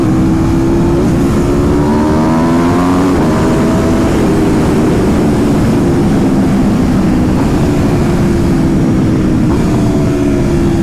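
An Aprilia RSV4 motorcycle with a LeoVince Factory S exhaust drones loudly and steadily, its pitch rising and falling through several revs over a continuous throaty rumble, with no talking.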